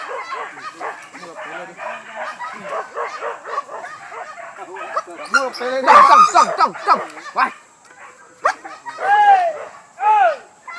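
Dog barking during a wild boar hunt, with yips and barks near the middle and end of the stretch, mixed in with and partly under ongoing talk from several people.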